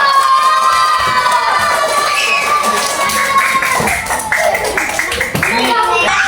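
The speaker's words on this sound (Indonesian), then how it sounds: "Berikan tepuk tangan yang meriah." A classroom crowd of children claps rapidly and cheers for a group coming to the front, shouting and chattering excitedly over the quick, uneven applause, loud and close.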